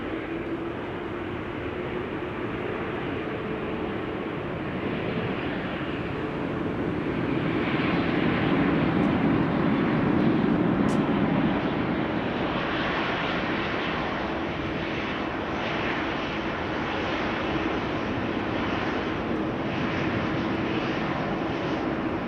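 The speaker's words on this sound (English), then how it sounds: "Next coming in, KLM flight 1404, arriving from Paris-Charles de Gaulle." A KLM passenger jet on flight 1404 from Paris-Charles de Gaulle lands at Amsterdam Schiphol, giving a sustained, broad engine roar that swells to its loudest midway, then holds steady as the aircraft rolls on.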